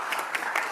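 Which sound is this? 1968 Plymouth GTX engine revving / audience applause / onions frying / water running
audience applause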